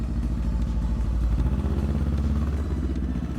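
An Italjet motorcycle engine runs steadily close by, a loud, even low-pitched throb with a rapid mechanical pulse and slight clatter, holding constant throughout with no talking.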